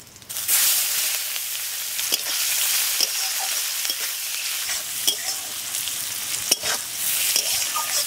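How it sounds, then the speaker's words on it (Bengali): Loud, continuous sizzling of whole cumin, crushed garam masala and chopped onion in hot oil used for frying potatoes, with occasional stirring scrapes and small pops, close up and with no voices. "আলু ভাজার তেলের ভিতরেই ফোড়ন দিয়ে দিচ্ছি"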